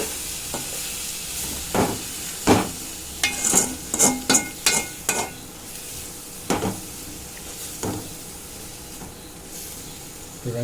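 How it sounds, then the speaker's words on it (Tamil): Cabbage and carrot are stirred in a pan for a Tamil cabbage-carrot side dish, a low sizzle under a burst of quick scraping strokes, then a few slower, louder stirs close by. "காயை போட்டு நல்லா கிண்டி விட்டுக்கலாம்."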